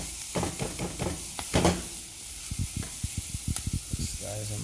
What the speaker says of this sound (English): So as you can see, the curry is burning.